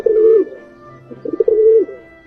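A domestic pigeon, descended from the rock dove, gives two close, clear, throaty coos separated by a short pause of softer, broken notes.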